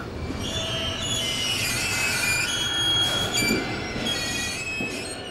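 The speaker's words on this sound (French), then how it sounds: "Tous les jours, ce sont en moyenne 5 trains de 4 wagons qui transitent par cette ligne ferroviaire." A freight train of four wagons on a rail line serving a waste-to-energy plant rolls past with loud, steady rumble and high, drawn-out wheel squeals, close and continuous.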